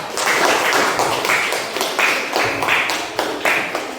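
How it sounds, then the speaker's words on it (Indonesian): Classroom applause for a student group during an Islamic religious studies lesson, a brisk patter of many hands clapping together, close and lively, with a few sharper individual claps standing out. "Tepuk tangan untuk kelompok 3 ya."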